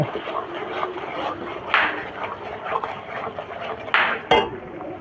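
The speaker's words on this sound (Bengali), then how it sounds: "এবার এগুলো একসাথে খুব ভালো করে কষিয়ে নেব।" Spices sizzle in a hot pan while a utensil stirs and scrapes against the metal, with scattered clinks and a few sharper knocks over a steady frying hiss.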